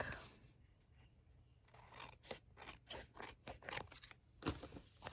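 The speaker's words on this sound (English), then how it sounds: "I'm just gonna go in and cut off all the extra black cardstock" Scissors snip through excess black cardstock while a mini accordion scrapbook album is trimmed, a run of close, crisp cuts and rasping strokes in an irregular rhythm, with no talking.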